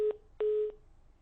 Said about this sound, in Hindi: चलिए फोन लाइन डिस्कनेक्ट हो गई है आपकी